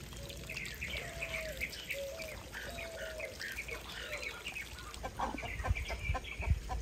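Hen and newly hatched chicks clucking and peeping, with repeated soft clucks and a steady run of thin chirps, moderately close and continuous, with no talk.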